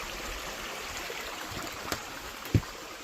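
A river flows beside a stone holy well with a solid stone roof, giving a faint, steady rushing wash with a couple of brief soft knocks, heard alone without speech.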